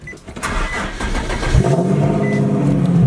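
A Nissan 240SX with a swapped SR20 engine cranks and catches, then settles into a loud, rising rev that holds steady and close.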